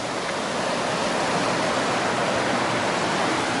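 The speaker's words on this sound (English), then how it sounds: "Oh, what a beautiful river." River flowing in North Cascades National Park: a steady, loud broadband rush of fast-moving water, continuous and close, with no voices over it.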